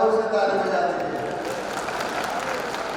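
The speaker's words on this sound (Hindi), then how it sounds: "जोर से ताली बजा दीजिए।" Crowd applause at a political rally in Unnao, a dense steady wash of clapping from many hands that stays loud and even throughout.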